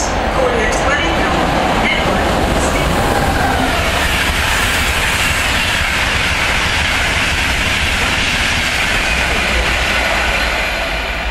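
British Rail Class 91 locomotive 91007 passes through Welwyn Garden City station with a loud, steady, close roar and rattling wheels that last the whole time, with a faint voice in the background.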